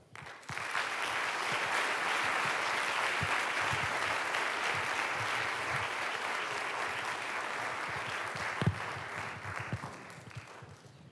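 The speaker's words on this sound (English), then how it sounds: "may I ask for applause for Asturias?" Steady audience applause at a smart destinations conference inauguration in Oviedo, a dense, continuous clapping from a large hall crowd with a few louder individual claps standing out near the end.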